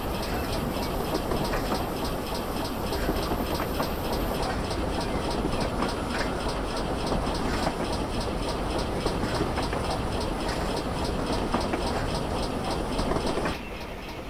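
A video-game steam train rumbles along with a steady rhythmic clickety-clack of wheels on rails, loud and continuous, the engine droning underneath.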